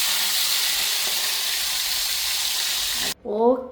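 Needlefish sizzles in hot oil for a Sri Lankan fried fish dish, a loud steady hissing frying sound that cuts off abruptly near the end, followed by a brief voice.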